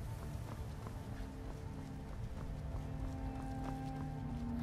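A horse's hooves clip-clop steadily in Skyrim VR, a continuous rhythmic trot under a dense, even game soundscape, with no speech.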